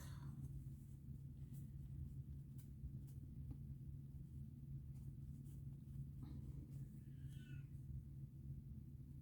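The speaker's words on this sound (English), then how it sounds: "you can hear my cat in the background" A cat meows faintly in the background a couple of times, nearly buried under a steady low indoor hum.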